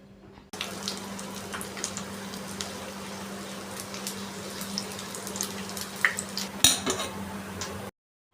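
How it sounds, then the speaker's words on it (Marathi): Kofta fry in hot oil with a steady, close hiss and sizzle, and a few light spoon clinks near the end as they are turned, before everything cuts off abruptly. "याला ना अशा प्रकारे अलटून पलटून चमच्याने व्यवस्थित असं फ्राय करून घ्यायचं आहे"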